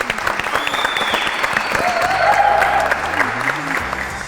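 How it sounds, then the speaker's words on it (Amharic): A studio audience claps to welcome guests onto a cooking show, a dense sustained round of applause close by with a faint voice running underneath. "ሞቅ ያለ ጭብጨባ ትስጣችሁ።"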